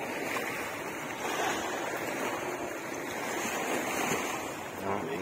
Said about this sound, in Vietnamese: biển sóng thì rào luôn ha